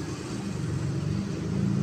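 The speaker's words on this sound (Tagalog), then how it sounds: "Hanggang highway ang traffic yan." Heavy holiday traffic crawls along a congested road near a rotunda toward the highway, with a continuous low rumble of idling and slowly moving engines close by.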